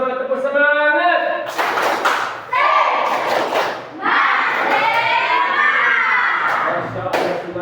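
Children chant and shout together in a loud, rhythmic cheer with claps and thumps punctuating the beat, close and energetic.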